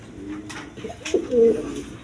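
A pair of red Rajgolla pigeons, one female and one male, give soft, low cooing calls close by, rising into a fuller drawn-out coo near the end against faint background noise.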